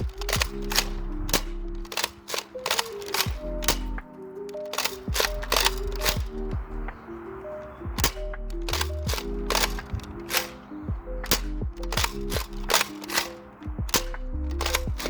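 A DartZone Nexus Pro pump-action toy blaster fires foam darts in a long run of sharp, close snapping shots with pump clacks between them, some coming in quick pairs, and no talking over them.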